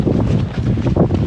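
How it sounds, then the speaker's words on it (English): Gusty wind buffeting the microphone at a dry wilderness campsite, a low rumbling roar that surges and dips throughout with no voices. "It's still quite windy."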